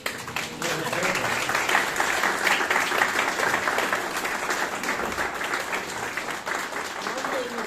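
An audience bursts into sustained applause at a travel talk, a dense, steady wash of clapping that fills the room for the whole stretch and never fades.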